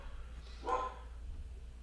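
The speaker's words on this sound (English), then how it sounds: "Sorry if you can hear my dog, unfortunately, that he just started barking." A single short dog bark, faint and somewhat distant, heard indoors over a low background hum.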